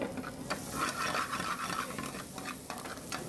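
Finely chopped garlic and green chilli are stirred in a pan, giving a continuous soft scraping and light sizzling with a few sharper clicks of the utensil, heard alone without talk.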